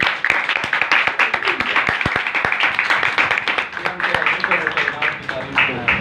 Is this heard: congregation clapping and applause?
yes